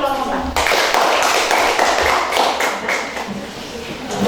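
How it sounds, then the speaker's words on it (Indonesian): A classroom group claps for a team of students, a burst of scattered hand-claps and taps that starts abruptly and carries on with voices and shuffling mixed in. "Tepuk tangan untuk kelompok 4."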